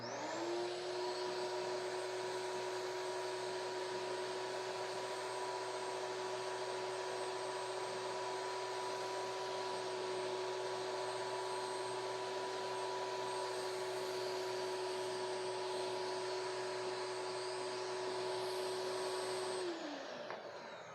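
A shop vac running through a mini cyclone dust collector on a smaller-diameter, longer hose sucks up fine dust, a steady loud whine and rushing airflow that holds constant for about twenty seconds before spinning down.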